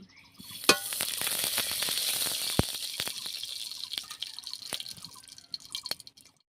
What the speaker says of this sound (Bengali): কড়াই গরম হয়ে গেছে কড়াইয়ের মধ্যে দিয়ে দিচ্ছি এক চামচ মতো ঘি